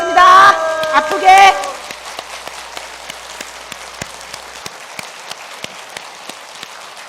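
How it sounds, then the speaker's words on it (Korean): A congregation at a 2015 Old Testament Bible study gathering claps hands in a steady, evenly spaced series of sharp single claps, following a brief burst of voices at the start. "박수 30번 치겠습니다."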